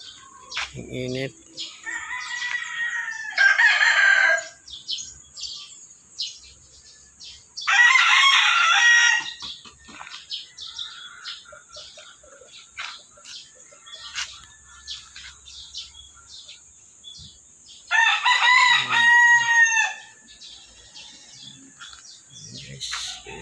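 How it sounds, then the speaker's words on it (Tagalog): Roosters crow repeatedly at a rural home with a hut, three loud drawn-out calls spaced several seconds apart, with softer hen clucks and chirps scattered between them. "Manok."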